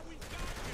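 Muffled gunfire rattles faintly and continuously for a split second in the co-op action game Saint's Row: The Third, set amid a street shootout.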